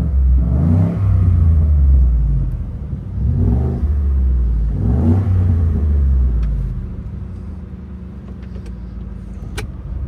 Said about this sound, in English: I've been driving the truck, but we'll give it a little gas.